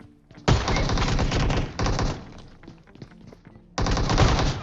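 Loud gunfire bursts in a PUBG match, including a shotgun blast, with two long heavy volleys and a third starting at the end, close and booming, no voices.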